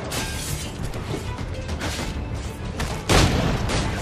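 A fire barrel blows up in Assassin's Creed 4: Black Flag amid continuous naval cannon fire and battle noise, a single loud boom bursting out near the end over a dense, steady din.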